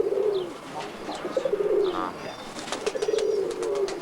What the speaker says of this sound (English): get a couple of close-ups, some of these pigeons